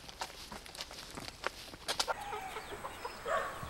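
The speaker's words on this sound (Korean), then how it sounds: "야산에 닭 200마리를 풀어놓고 키우는 이곳은 닭 때문에 갈색 여치의 피해가 거의 없었다고 한다" Free-range chickens roaming a wooded hillside farm cluck in scattered, overlapping bursts, with a few sharper calls standing out over a steady outdoor background.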